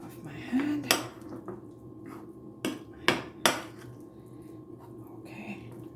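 Dishes and cutlery clattering into a home kitchen sink while making saltfish fritters, several sharp distinct clanks and knocks spaced over a few seconds against quiet room background.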